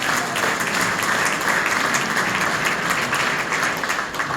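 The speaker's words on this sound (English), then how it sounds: "I want you to give all of them a big round of applause" An audience applauds at a formal national address in Guyana, dense steady clapping from a large crowd, loud and sustained throughout.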